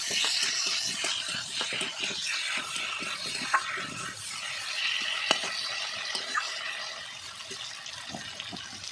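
Spices, ginger and chili paste frying in oil for a light fish curry, stirred steadily in a pan with scraping utensil clicks and a continuous close sizzle throughout.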